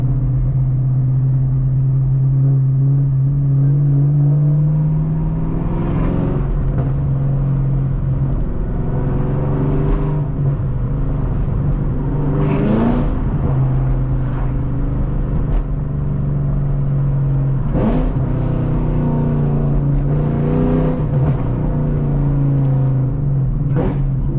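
A Chevrolet Camaro ZL1 engine heard from inside the car while driving, a loud steady low rumble with several rising revs and gear changes spread across the drive.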